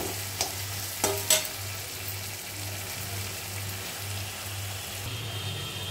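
A spice masala with sugar and salt is stir-fried in a pan for palak paneer, a continuous close sizzle with a few scraping stirs early on and a steady low hum underneath.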